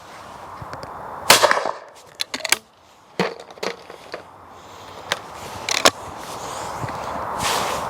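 Several sharp shotgun reports ring out as cartridges are fired at clay targets, spaced irregularly against a quiet outdoor background with faint rustling between the blasts.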